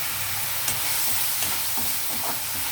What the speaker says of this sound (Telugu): కొంచెం వేగేటప్పుడే మనం అల్లం వెల్లుల్లి పేస్ట్ చేద్దామండి కొద్దిగా ఇందులోను